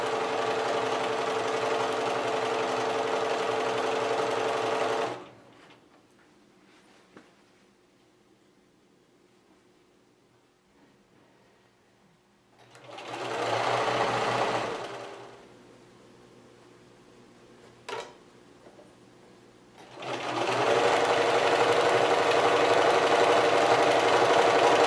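A sewing machine stitches a quarter-inch quilt seam in steady, loud whirring runs, pausing twice for quiet stretches with soft clicks before starting again.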